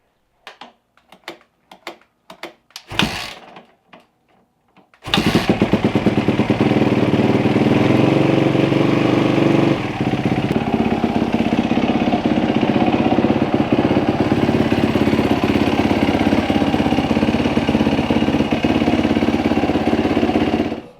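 A Yamaha YZ450F dirt bike on a stand gives a few clicks and a kick, then fires up and settles into a loud, steady, throbbing idle close by.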